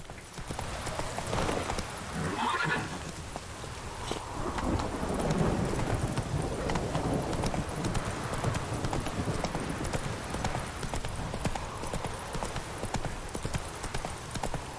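Horse hooves clop in a steady, continuous rhythm as a horse is ridden in The Witcher 3, with a faint wind-like ambience behind.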